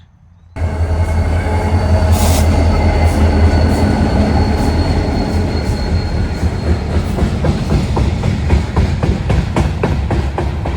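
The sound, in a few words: train passing, carrying lumber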